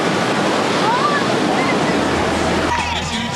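Ocean surf at Hossegor during a surfing contest, a loud continuous wash of breaking waves and rushing water with wind noise on the microphone throughout.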